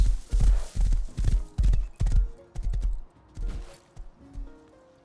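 Horse hooves clip-clop in the video game Rust, a steady rhythm of about ten heavy beats, close and loud at first, then fading as the steps move away.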